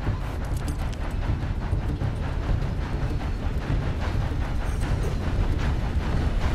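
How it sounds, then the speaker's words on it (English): A train rolls past in the western game Red Dead Redemption II, a loud, continuous rumble with a faint rhythmic clatter from the wheels, heard alone and close by. "Have to wait on that train coming through."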